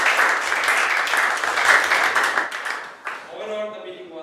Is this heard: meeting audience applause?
yes